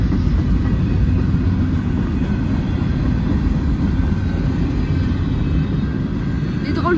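Long CN freight train wagons roll past in a loud, continuous low rumble, heard close with steady rail roar and no breaks.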